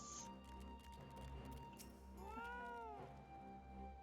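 Cat meowing in the video game Final Fantasy XIV: Stormblood, a clear, wavering mid-length meow in the middle of the clip over a looping game music background.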